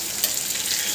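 Tomato sautéed with deep-browned fried onions in a pan, a brief bright steady sizzle with a small stirring knock.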